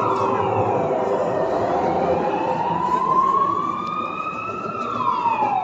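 A loud wailing ambulance siren sweeps up and down nearby, steady and unbroken over traffic rumble.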